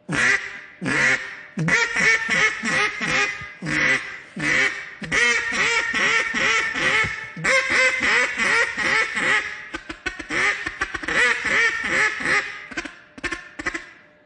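A handheld duck call imitating a female duck, blown in long runs of rapid, loud, nasal quacks with brief pauses between sequences, close and alone.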